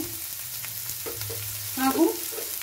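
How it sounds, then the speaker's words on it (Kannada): Chopped onions, cashews and green chillies frying in oil, a faint low sizzle with a few soft stirring taps and a brief louder bump near the end, close and quiet with no voices. "ಸ್ವಲ್ಪ ಇದನ್ನು ಫ್ರೈ ಮಾಡುವ ಎಣ್ಣೆಯಲ್ಲಿ"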